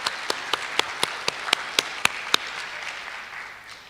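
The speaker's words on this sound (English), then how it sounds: "Well, let's clap for them anyway." Sparse, distinct claps at an arts award ceremony, about ten sharp hits in a roughly even rhythm over a quiet room, then fading out.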